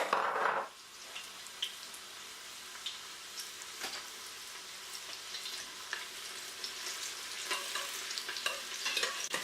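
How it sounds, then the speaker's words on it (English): Sliced red onion hits hot oil with a burst, then sizzles and crackles steadily under occasional stirring, close and moderately loud with no talking. "add in the sliced onions and begin to fry"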